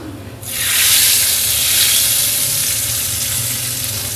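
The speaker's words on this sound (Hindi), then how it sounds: "तो इसको मैं अब इसमें लगा दूंगी तड़का" Whole chillies dropped into hot desi ghee for a tadka over chana dal give a sudden loud sizzle that burst on and holds steady, crackling and hissing close by.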